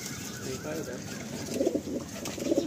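Andhra Fulsera pigeons of the Rotela breed coo in a loft, soft low throaty coos rising in two bursts over a murmur of background voices, close by.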